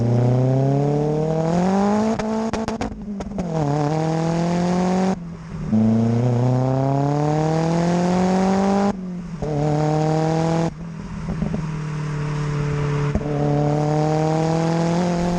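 A Ford MK1 RS engine drives and pulls through the gears, its pitch climbing steadily under load, then dropping sharply at each upshift before rising again. The sound is loud, close and continuous throughout, with no talk.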